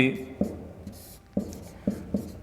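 Chalk or marker strokes on a board during a maths lesson, short scratchy bursts in an irregular rhythm, close by, with a teacher's voice speaking between them.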